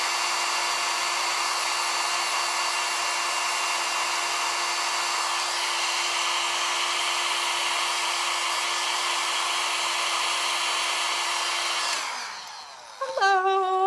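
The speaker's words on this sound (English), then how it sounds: "before I use this, I'm gonna blow dry them. Make sure they're kind of dry. Keep it on cool" A handheld hair dryer on its cool setting blows steadily with a whining motor hum for about twelve seconds, then winds down and clicks off, followed by brief rattling handling noise; no one speaks.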